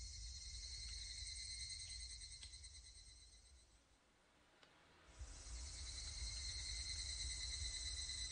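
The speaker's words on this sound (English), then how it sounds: "the title screen doesn't actually have music, but it's just the cicada crying" Cicadas cry continuously on the Higurashi visual novel title screen, a dense, steady insect drone that dips briefly midway and then swells back to full strength, with no music or voices.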